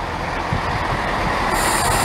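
A Chiltern Railways two-car diesel unit, class 165, pulls into Denham station on a very cold day with a loud, close rolling rumble, brief wheel squeal and a rising metallic hiss near the end.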